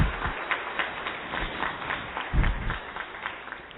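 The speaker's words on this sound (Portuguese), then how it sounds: "peço uma salva de palmas para essas mulheres" Applause from the audience at a formal solemn session honoring women who do volunteer work, a steady wash of many hands clapping in a hall, moderately loud and continuous throughout.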